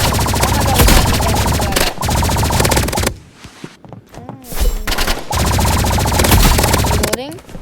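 Rapid energy-pistol fire in the shooter game Rivals, loud and near, in long sustained bursts broken by a short pause, with a player talking over the shooting.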